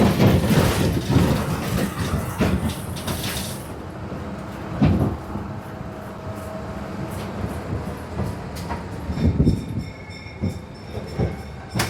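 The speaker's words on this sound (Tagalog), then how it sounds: "Gusto ko lang subukan tong train na ito. Mini train." A small sightseeing mini train rolls through Jerusalem inside the Old City walls, a steady close rumble of wheels and motor with clattering bumps and a few louder knocks, no talk.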